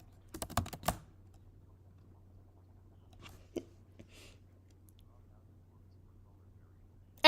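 Typing on a computer keyboard while entering Python code in a terminal: a quick burst of several key clicks early on, then a few isolated taps spaced out against a quiet room hum.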